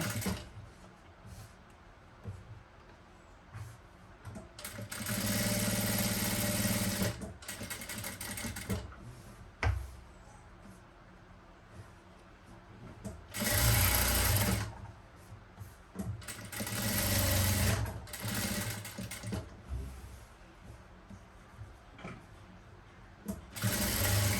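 A sewing machine stitches a fabric neckline in bursts of rapid mechanical whirring, with pauses between runs and the fabric being shifted, close and fairly loud, with no talking.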